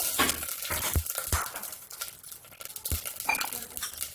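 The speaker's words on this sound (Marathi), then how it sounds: "आता मी तूप टाकते तूप टाकले" Ghee sizzling in a hot pan over a gas flame, a soft frying hiss broken by scattered metallic clinks and scrapes of a spoon against the pan.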